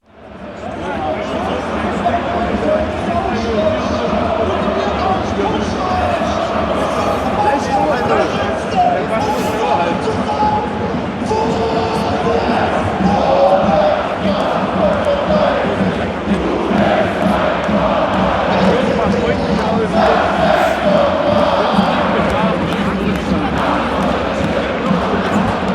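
Football fans chant together in a stadium, led by a capo, a loud sustained crowd roar with rhythmic group shouting that holds steady throughout, with no individual voice standing out.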